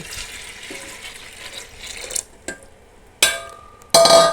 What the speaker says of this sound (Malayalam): നമ്മുടെ പരിപ്പിലേക്ക് കുറച്ച് വെള്ളം ഒഴിക്കുകയാണ്